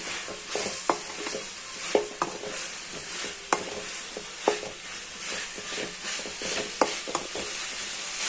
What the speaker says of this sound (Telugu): గోబీ వేసుకొని కలుపుకోవాలి